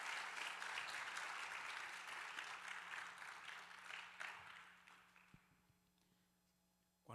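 Church congregation applauding loudly at first, the clapping thinning and fading away over several seconds.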